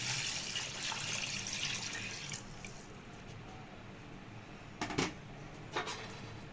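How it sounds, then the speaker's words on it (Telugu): Measured water poured into a cooking pot with cooked sorghum for Nellore biryani, a steady rushing pour that fades, followed by a few quiet splashes and drips. "నీళ్ళు అయితే కొలిచి పెట్టుకున్నాను, నీళ్ళు పోసేస్తాను."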